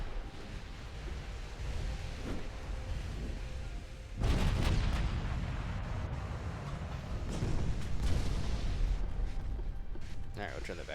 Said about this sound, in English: I just want to cut loose of the salvo